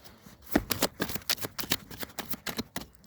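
Tarot cards shuffled by hand at close range, a rapid series of crisp riffling flutters and slaps in an uneven rhythm, with no voice over it.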